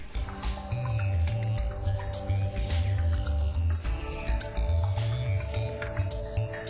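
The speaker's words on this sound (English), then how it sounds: "The tubing then runs through a vat of bubbling hot molten lead." Brass radiator tubing runs through a vat of bubbling molten lead in a car radiator factory. A loud, steady machine hum with layered tones carries a soft, continuous wet churning throughout.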